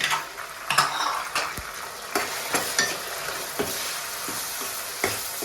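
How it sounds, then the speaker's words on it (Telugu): Tomatoes fry in a pan with turmeric and salt, sizzling close and steadily while a utensil repeatedly scrapes and clinks against the pan. "ఇట్లా వేసి మొత్తం టమాటాలు మెత్తగా అయ్యేటట్టు ఫ్రై చేయాలి"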